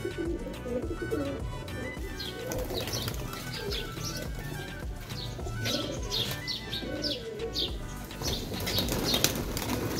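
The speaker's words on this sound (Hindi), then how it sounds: "ये चेक कर सकते हैं आप कबूतरों का नज़ारा। फुल मौज मस्ती में, फुल उड़ान।" A flock of fancy pigeons flies overhead with continuous fluttering wingbeats, mixed with scattered soft coos and chirps, forming a steady outdoor bustle for about ten seconds with no talking.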